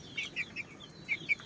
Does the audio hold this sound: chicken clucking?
yes